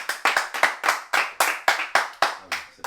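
A small group claps in a loose, steady rhythm of about ten sharp, close hand claps, fairly loud and evenly spaced, voting on cheddar and Roscoff onion in a clap-o-meter poll.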